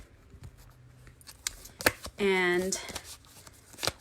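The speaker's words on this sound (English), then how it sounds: "so I've got my cards out and I'm going to begin shuffling" Tarot cards shuffled by hand in a quiet room, giving soft irregular riffling clicks and flutters close by, mixed with brief spoken words and a short hummed or voiced tone.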